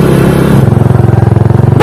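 A motorcycle engine runs close by, its rough pulsing idle rising into a rapid throbbing rev that stops abruptly, loud and up front.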